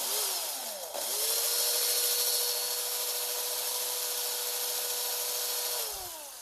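Small power drill spinning a tiny drill bit, a steady high whirring drone that winds up, holds for several seconds and winds down, close and alone without talk.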